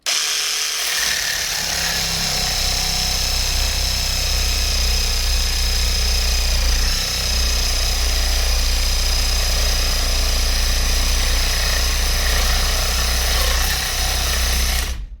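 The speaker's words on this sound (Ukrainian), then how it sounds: "Полотно від Боша, правда, вже не свіже, але буду різати кінчиком." An AL-KO HS 2015 18 V cordless reciprocating saw cuts a 3 mm pipe using the tip of a worn Bosch blade, giving a loud, close, unbroken mechanical whine and rasp that holds steady from start to finish with no talking.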